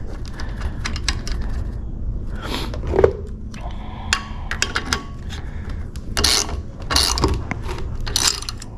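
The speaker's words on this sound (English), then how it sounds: "Tighten this in. What this is doing is it's crimping on the tubing so the tubing won't slide down when you're trying to flare" A flaring tool clamp is tightened onto stainless steel tubing for lowrider hydraulics, giving sharp metallic clicks and ratcheting creaks in irregular bursts, close and fairly loud.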